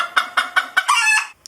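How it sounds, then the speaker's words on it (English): Chickens clucking close by, four short evenly spaced clucks followed by a longer rising squawk, loud and clear with no talk. "I recognize the chickens, too."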